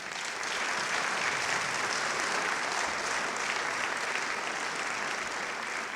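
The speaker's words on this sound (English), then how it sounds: "One more round of applause for them" A public meeting audience breaks into sustained, dense applause that holds steady at an even level for several seconds, with no voices over it.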